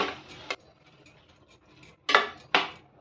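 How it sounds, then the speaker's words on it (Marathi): Utensil clinks and scrapes against a pan as prawns are mixed into sautéed spices, with a few sharp metallic knocks standing out clearly, close and with no voices. "त्याच्यामध्ये ही कोळंबी घालायची मिक्स करायची"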